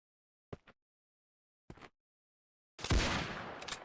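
Two short sharp gunshots about a second apart, then a louder blast with a rolling tail, video game hunting gunfire in Project Hunt against near silence.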